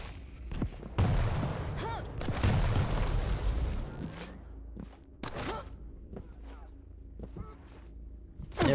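Shotgun blasts in Quake Champions during a competitive match, several sharp bursts amid busy game action with scattered thuds and footsteps, moderately loud with quieter gaps between.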